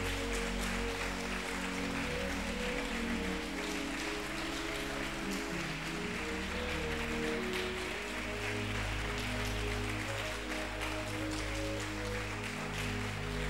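Church congregation applauding: a steady, fairly soft wash of many hands clapping, continuing for a long stretch beneath sustained tonal music.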